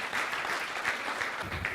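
Crowd of listeners at a business coaching talk clapping steadily, a dense even wash of applause from many hands with occasional louder claps, with no voices heard.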